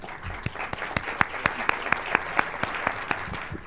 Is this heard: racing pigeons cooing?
no